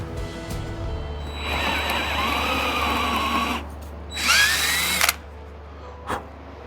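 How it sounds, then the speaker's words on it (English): A power drill bores holes for 3/8-inch dowels in a DIY knife rack build: one sustained whining burst of about two seconds, a pause, then a shorter, sharper second burst, close and loud. "I'm drilling the holes for a 3/8" dowel."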